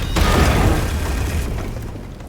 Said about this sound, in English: Alright, that's a pretty nice explosion.